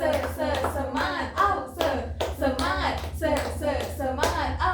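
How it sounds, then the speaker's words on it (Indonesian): Hands clap a classroom cheer in quick rhythmic patterns, in bursts of one, two and three, while a voice chants along in Indonesian. "1 kali tepuk semangat, 2 kali tepuk semangat, 3 kali tepuk semangat"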